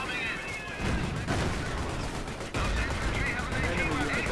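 Commandos firing guns in the WWII strategy game Company of Heroes, a dense battle din of rattling gunfire and bursts that runs steadily throughout, with a sharp new volley cutting in midway and a voice murmuring underneath.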